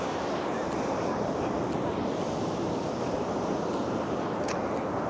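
Stormy autumn sea rolls in at Fontanka near Odesa, a continuous roaring wash of surf mixed with wind buffeting the microphone, steady and fairly loud with no distinct breaks between waves.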